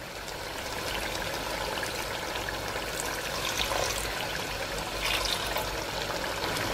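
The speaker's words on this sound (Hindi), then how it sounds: "इसमें ऐड कर लेंगे पानी।" Water poured into a pot of chicken korma (shahi chicken korma) in a home kitchen, a steady soft stream running for several seconds at low level, no voices.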